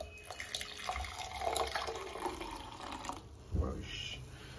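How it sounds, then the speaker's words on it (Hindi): Hot water is poured into a cup of coffee in a home kitchen. A steady trickling, gurgling pour runs at low volume, with a voice briefly heard. "added some water"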